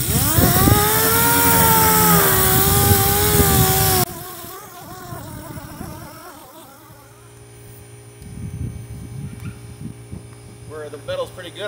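A car body panel is scuffed with 180-grit abrasive by a loud electric power sander, with a steady harmonic whine for the first four seconds, then softer, intermittent sanding and rubbing noises.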